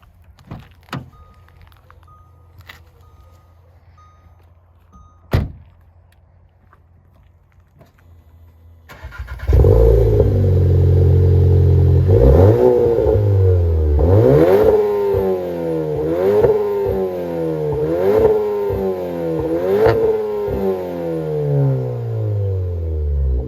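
A few clicks and a thump, then a tuned Volkswagen Golf R engine starts and revs hard repeatedly, rising and falling through the gears, loud and close.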